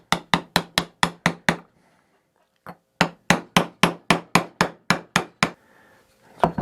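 Hammer striking a socket to drive a new tine seal into a Troy-Bilt Horse tiller, two quick runs of sharp metallic blows, about seven and nine hits, separated by a pause, close and loud.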